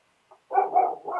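A dog barks outside a door: a soft yip, then a run of three or four close, fairly loud barks running into one another, with no talk.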